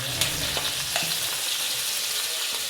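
Ginger garlic paste sizzles in a hot pan of oil for Kerala-style chicken liver pepper fry, a steady close crackle with occasional sharp pops, heard alone.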